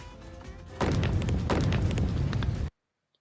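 A loud booming crash with clattering debris rumbles for about two seconds over a low background, then cuts off abruptly into silence.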